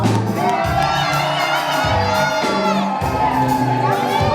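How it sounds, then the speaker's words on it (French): At a religious wedding, a crowd of guests shouts and ululates in loud, continuous cries of joy, high voices whooping over one another. "Est-ce qu'on peut pousser les cris de joie?"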